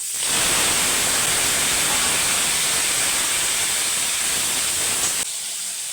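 Tomatoes fry in oil in a pan over a low flame for an Andhra-style chutney, giving off a loud, steady hiss that cuts off near the end.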